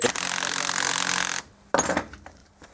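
A nut on a Chinese pit bike's stator plate is run down with a power tool in a loud, steady buzzing burst, then a pause and a shorter second burst with a few clicks.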